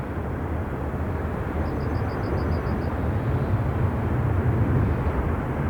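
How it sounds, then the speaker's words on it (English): An executive jet takes off from an airport runway in high winds, a steady, loud, broadband roar that holds throughout, with a brief faint whine partway through. "And an exec jet that took about 2 feet of runway to get going."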